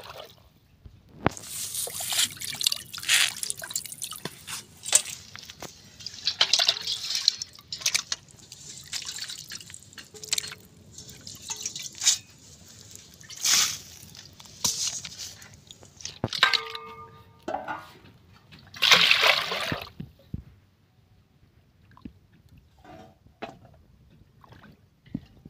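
Shilon fish being washed by hand in a pot of water, with close splashes, sloshing and drips coming in uneven bursts before the water settles into quiet.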